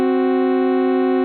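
Two steady tones sounded together as a tritone interval, a sustained dissonant harmonic chord held for over a second at a constant level before ending abruptly.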